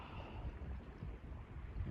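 Low, gusty wind rumble buffeting the microphone outdoors at a glacier lagoon, steady and moderately faint, with no voices.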